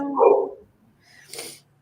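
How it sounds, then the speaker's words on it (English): A dog barks twice, a loud deep bark followed after a pause by a shorter, higher yelp, fairly close and clear with no talking over it. "if I heard your dog like that, I would not be breaking in the house"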